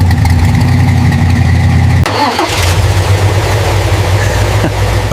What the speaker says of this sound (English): the 60-year-old engine roars back to life